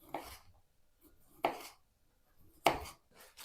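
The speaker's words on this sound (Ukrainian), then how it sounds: "Кільцями наріжу декілька помідорів." A knife cuts through tomatoes into rings on a board, three distinct close slicing strokes spaced about a second apart with quiet pauses between.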